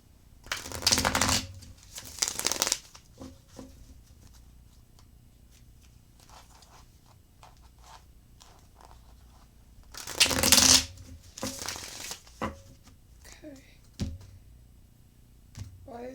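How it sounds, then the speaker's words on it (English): A deck of long tarot cards riffled and shuffled by hand: two quick bursts of flapping near the start, a quiet stretch, then another burst followed by lighter shuffles and taps, close and alone. "it's taking me a bit to shuffle to these cards. They're a bit longer than my regular tarot decks."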